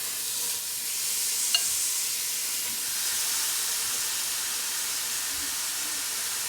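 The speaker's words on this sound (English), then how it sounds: "So in this skillet, everyone, I'm gonna go ahead and add my beef." Ground beef sizzles and fries in a skillet, a steady broadband hiss with light stirring scrapes and a brief clink, continuous and close without any talking.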